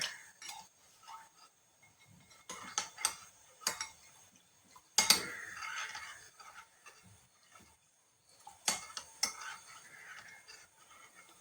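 Cornflour being stirred into a mixture in a small bowl, a spoon clinking and ticking against the sides in quick irregular bursts, near and fairly quiet.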